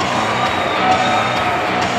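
A packed dancehall crowd at a bikini contest gives sustained, loud applause and cheering for the contestants, a steady dense roar of clapping throughout.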